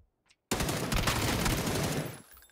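Dense gunfire from a PlayerUnknown's Battlegrounds multi-kill firefight: a quiet tick, then a sustained loud burst of rapid overlapping shots for about two seconds that cuts off abruptly.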